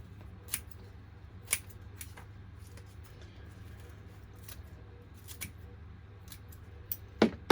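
Sharp, isolated scissor snips cutting dead roots off an Oncidium sotoanum orchid during repotting, a handful of crisp clicks spaced irregularly and close, with the last few quicker near the end, over quiet background.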